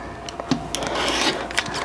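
A quilt block of fabric being trimmed along one edge: short, close, rasping cutting and scraping strokes in quick succession, with no talking.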